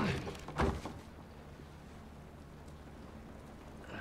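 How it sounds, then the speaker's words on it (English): Steady rain falling outdoors in The Last of Us Part 2, a soft continuous hiss of drops with a brief thud early on, fairly quiet and even throughout. "This rain ain't gonna do us any good."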